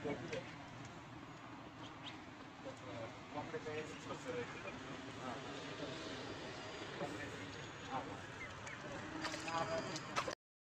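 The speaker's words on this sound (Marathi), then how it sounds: "सोडले आता बदकं पाण्यात" Ducks let loose into water quack in scattered calls over a busy outdoor background with faint voices, the calls growing denser toward the end.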